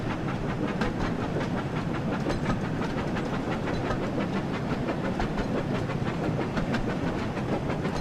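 A train running in a Thomas the Tank Engine video game: a steady rumbling ride with a regular, repeating clickety-clack rhythm and light hiss, continuous and fairly loud, with no voices.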